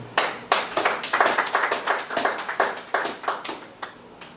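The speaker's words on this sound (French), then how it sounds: "Est-ce que quelqu'un applaudit le Seigneur?" A church congregation applauds together in a steady rhythmic pattern of sharp, close hand claps that swell and fade over a few seconds. Nobody talks.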